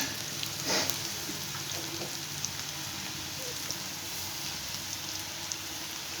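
Potatoes frying in oil in a pan give a steady, crackling sizzle with occasional pops and a brief stir, close by and continuous without voices.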